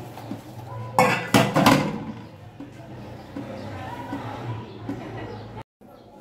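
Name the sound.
washing dishes by hand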